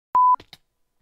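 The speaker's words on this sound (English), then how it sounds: "my alarm is going off" A loud, steady electronic alarm beep rings out once for about a fifth of a second, followed by a couple of short, softer clicks and blips, then silence.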